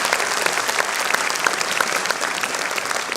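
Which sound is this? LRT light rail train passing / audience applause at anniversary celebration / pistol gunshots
audience applause at anniversary celebration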